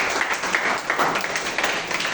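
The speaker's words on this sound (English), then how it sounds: "Let's clap for him too." Audience applause at a school assembly, a steady wash of many hands clapping together at moderate volume, continuing evenly throughout.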